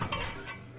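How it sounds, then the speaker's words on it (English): Dry ingredients for Portuguese custard tarts being mixed in a bowl with a pinch of salt, a brief, faint scrape and rustle of a utensil against the bowl. "we're just going to give this a dry mix here"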